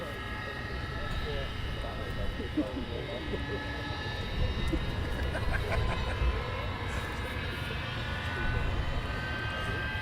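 Avro Vulcan XL426 bomber's jet engines idling during a taxi run at an airfield, a steady distant whine and roar held at a constant level while a voice talks over it.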